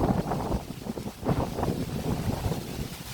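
Strong wind gusts before rain roar and buffet against the microphone in a loud, continuous rush with rising and falling surges, and no speech is heard.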